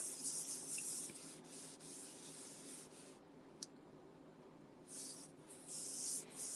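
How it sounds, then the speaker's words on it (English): Embossing buddy rubbed over basic white cardstock, a soft dry scuffing swish that comes in bursts, fading away midway and then returning near the end, close and alone with no voices. "use an embossing buddy"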